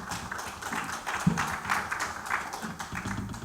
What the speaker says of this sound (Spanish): Dele palmas al Señor, dele gracias.